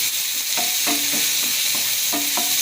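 Masala paste fries in oil in a pan while being stirred, a bright continuous sizzle broken by a few quick scraping strokes of the spatula, close and fairly loud.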